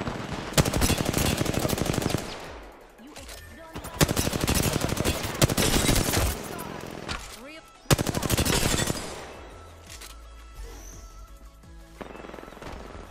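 Rapid automatic gunfire in an Apex Legends match, three loud sustained bursts of close shots separated by short pauses, followed by quieter scattered firing and a few voices.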